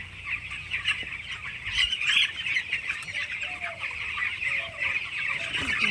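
Chickens on a poultry farm with a viral disease cluck and squawk in a continuous, busy flock chorus, close and moderately loud, with no voices.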